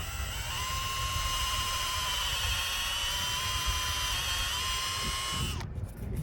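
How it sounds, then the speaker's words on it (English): A cordless drill whines steadily at high speed for several seconds as it bores a slightly upward-angled tap hole into a maple tree, then stops abruptly. "Now, when you drill your hole, you want to drill on a slightly upward angle."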